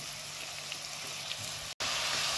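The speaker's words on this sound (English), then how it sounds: "I've just added the cubes now, and as you can hear, they're sizzling very nicely" Loud, steady sizzling of ox heart cubes frying in a hot pan, a continuous crackling hiss with a brief dropout before it resumes.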